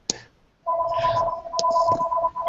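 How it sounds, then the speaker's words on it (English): A phone rings nearby with a steady electronic two-tone ring that starts after a short click and continues, broken only by a brief gap, with no talking over it. "my phone's ringing"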